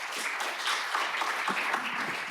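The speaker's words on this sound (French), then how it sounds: "je crois qu'on peut vous applaudir" Audience applause at a regional health-system round-table panel, a steady moderate wash of clapping sustained throughout without voices.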